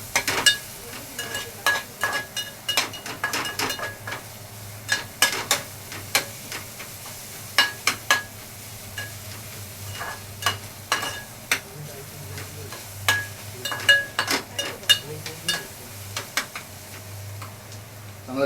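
Egg bhurji mixture with salt being stirred in a pan with a spoon: repeated scraping clicks and taps at an uneven rhythm over a faint low hum, close and moderately loud.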